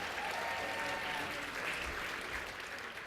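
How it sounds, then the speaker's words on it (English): Sustained applause from a banquet audience at a charity roast benefiting Whittier Street Health Center, a steady dense clatter of clapping hands filling the room without pause. "give yourselves a round of applause for coming out tonight"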